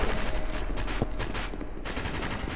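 Gunfire crackles in a round of SCP: Secret Laboratory, a dense, steady barrage of shots filling the whole stretch at moderate loudness with no break.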